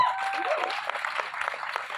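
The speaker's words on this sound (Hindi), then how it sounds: "भूषण जी, इसके लिए एक बार जोरदार ताली होनी चाहिए।" A crowd at a film trailer launch in Mumbai bursts into sustained applause, dense clapping with some cheering heard from a distance, continuing throughout.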